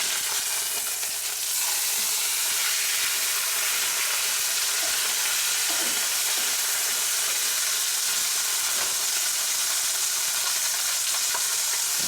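Fish fries in butter in a pan with a steady, loud, hissing sizzle that runs unbroken, with faint crackles and pops scattered through it.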